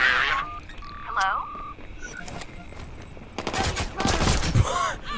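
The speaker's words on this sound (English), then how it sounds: "Being shot at. I'm in trouble here!" Gunfire in Watch Dogs 2, with bursts of rapid shots building toward the end, mixed with game voices and radio chatter and a few electronic tones.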